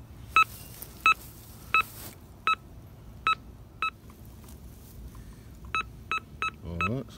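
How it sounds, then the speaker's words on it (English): A metal detector sweeps over excavated dirt from a hole and gives a series of short, sharp electronic beeps, isolated at first and then in a quicker cluster near the end, with faint handling noise between them. "run our metal detector over our dirt in our hole"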